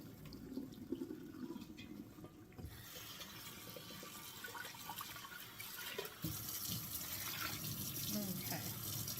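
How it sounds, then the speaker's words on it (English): Cooked pasta is tipped into a kitchen strainer, and water rushes and splashes steadily into the sink. The flow grows louder partway through and keeps up as a dense, continuous wash. "I'm going to put the pasta into my strainer."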